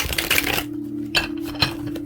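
Tarot card deck being shuffled by hand: a dense riffling burst of papery card flutter, then a few softer taps and clicks as cards settle, close and alone.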